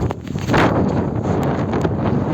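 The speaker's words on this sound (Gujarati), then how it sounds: "હા વાયરો તો જો ભાઈ." Strong outdoor wind buffets the microphone near the swollen Saraswati river at Siddhpur, a loud, steady broadband roar with brief gusting peaks and no talk.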